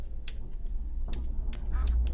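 Ducks quacking in a video game, several short bright calls scattered across the moment at close range over a steady low background hum, with no talk.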